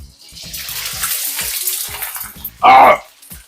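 Red snapper frying in hot oil: a bright, crackling sizzle runs close and steady, then swells into a sudden loud surge of spattering near the end.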